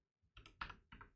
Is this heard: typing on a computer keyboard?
yes